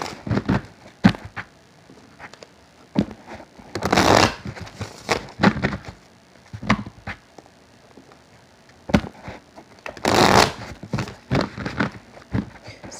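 Rapid crisp riffling bursts of tarot cards being shuffled, two longer flurries among scattered taps and snaps, close up with no talking.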